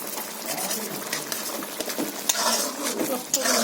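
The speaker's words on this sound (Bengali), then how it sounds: "তো বন্ধুরা আমটা আমি ঘেঁটে দেবো।" Mango being stirred into a small-fish curry in a pan, a continuous scraping and sloshing with small clinks of the utensil against the pan, close and fairly loud.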